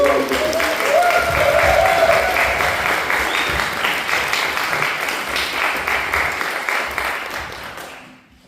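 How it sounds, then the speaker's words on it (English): An audience at a remembrance concert claps in a full, sustained round of applause that slowly fades and drops away to near silence at the end. "Please give them a great applause."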